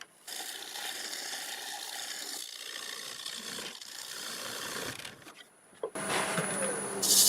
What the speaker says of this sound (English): does that scrape nice